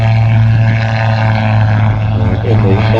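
A gyrocopter flies a display at the Midlands Air Festival 2024, its engine and rotor throbbing loud and steady, close by, with low harmonic tones holding throughout.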